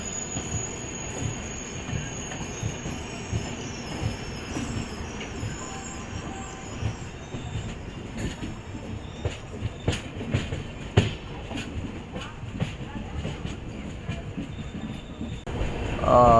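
The Anga Superfast express from Bhagalpur to SMVT runs past on the rails in a steady loud rumble, with rhythmic wheel clicks and clatter building through the pass and a faint metallic squeal.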